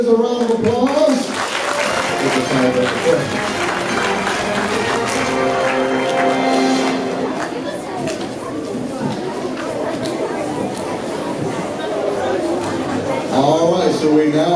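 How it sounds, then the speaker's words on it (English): An audience claps steadily for third graders at a school math competition, a sustained wash of applause with crowd chatter mixed in and voices audible throughout. "give our third graders a round of applause"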